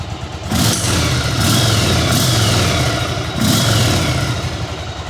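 A Yamaha Virago 1100 motorcycle engine idles with a low, lumpy throb, then revs up twice in quick throttle blips, loud and close with no voices.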